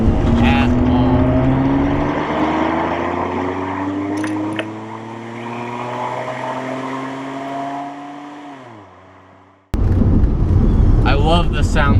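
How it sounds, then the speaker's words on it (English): A 1989 BMW E34 535i engine runs loudly and steadily, its rising harmonic drone climbing as it revs for about nine seconds, then dropping away and cutting off before a burst of other noise. "I love the sound this engine makes."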